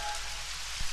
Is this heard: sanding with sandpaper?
no